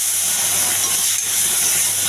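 Curry leaves tempering in hot oil for an onion chutney give a steady, loud, close sizzle that holds evenly without a break and with no voices.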